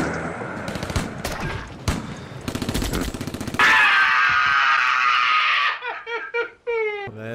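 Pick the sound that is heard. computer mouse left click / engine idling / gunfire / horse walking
gunfire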